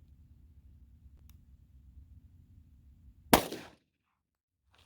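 A single loud gunshot from a .45 ACP pistol firing a Speer Gold Dot 200 grain +P round cracks out sharply and close, rings briefly, then drops into silence after a low steady hum.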